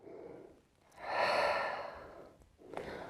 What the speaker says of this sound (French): j'expire, je me détends.